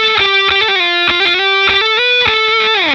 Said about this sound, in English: pre-psychedelic era fuzz tones sound very similar to the speaker slashing experiments of the